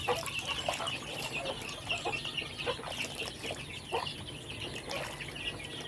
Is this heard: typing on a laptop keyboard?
no